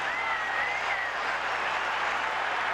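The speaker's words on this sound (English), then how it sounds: "Crowd roaring its approval with the arrival of" A ballpark crowd at Fenway roars and cheers for Red Sox hitter Trot Nixon during the 2003 ALDS Game 3 against the A's, a broad sustained wall of noise with a faint whistle riding over the top.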